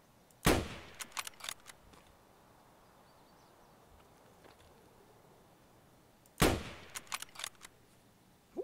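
Gunfire in the video game Escape From Tarkov: two sharp, loud shots about six seconds apart, each followed by a quick rattle of shorter clicks and echoes over a low, steady background.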